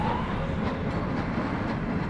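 A train rolls along in the video game Black Mesa, a steady low rumble with a continuous mechanical drone and faint rattling, no voices over it.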